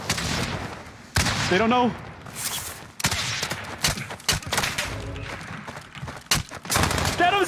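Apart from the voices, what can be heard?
gunfire in video game Call of Duty Warzone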